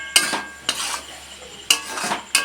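Chicken and pea ghugni with boiled potato being stirred in a pan, a utensil scraping and clinking against the metal in four distinct strokes, close and fairly quiet, with no talking.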